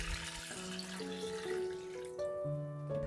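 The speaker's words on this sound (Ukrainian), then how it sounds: "Заливаємо водою" Steady running water poured into a pot over carrots and onion, a continuous splashing wash with a shifting tone as it fills, close by with no voices.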